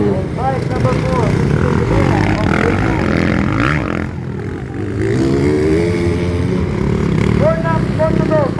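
Motocross motorcycles race on a dirt track during an Open Pro Expert event in Pagadian, their engines droning loudly and revving up and down, with an announcer talking over the noise.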